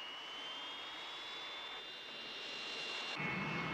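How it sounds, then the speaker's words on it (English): Jet airliner powering up for its takeoff roll on the runway, a loud steady turbine roar with a high whine that swells toward the end. "Romeo Tango, clear for takeoff."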